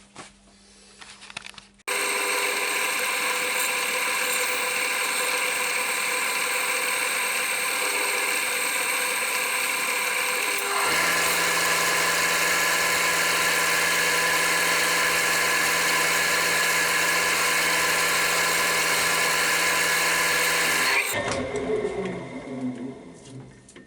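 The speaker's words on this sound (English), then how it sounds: "and then I'll polish the bottom." A wood lathe spins a sycamore platter while its bottom is polished, a steady loud motor hum with a whining tone that runs for about twenty seconds, then stops, without any talking.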